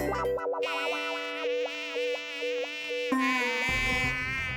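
A cartoon mosquito buzzes in a comedy animation, a loud, close, continuous whine that repeatedly dips and rises in pitch, then shifts tone near the end, with no talk.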